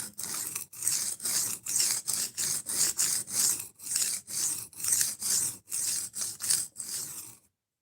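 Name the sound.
sharpening knife on 120 grit abrasive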